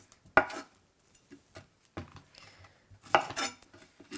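Kitchen knife chopping the ends off a medium zucchini, a few sharp clacks of the blade hitting the cutting board with softer taps between, close and clear, no talking.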